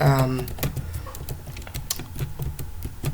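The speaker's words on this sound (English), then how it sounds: "You type whatever you are typing" Someone types quickly on a nearby keyboard, with a steady run of sharp key clicks continuing while a person speaks over it.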